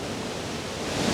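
Powerful waterfall at Plodda Falls in Scotland, a steady, loud broadband roar of plunging water filling the whole moment without break or voices.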